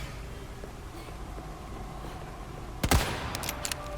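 Sniper rifle shots in Resident Evil 4 Remake, a sharp loud crack near the end followed by a few fainter reports over a steady low game ambience of wind and rumble.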